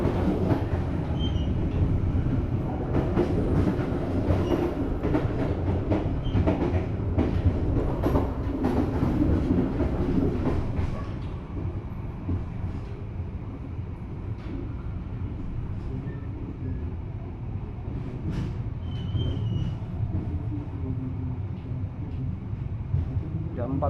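Taksaka Argo-class passenger train travelling from Jakarta to Jogja, heard from on board as a steady, loud rumble of wheels and carriage noise with faint clickety-clack, easing slightly quieter partway through as it nears a station.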